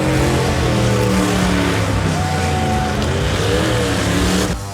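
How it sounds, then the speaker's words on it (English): Car doing burnouts at a Cleetus and Cars demolition drag racing event, a loud sustained engine roar with layered harmonic whine and tire squeal running continuously, cutting off abruptly near the end. "Now, obviously, there were burnouts."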